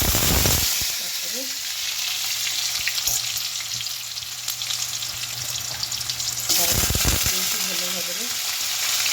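Mustard seeds crackle and sizzle in hot oil, a dense hissing spatter that holds steady for several seconds and swells again near the end, close by, with brief faint voices at moments.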